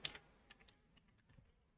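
Quick, light clicks of typing on a computer keyboard, a handful of scattered keystrokes close and faint in a quiet room, with no talking.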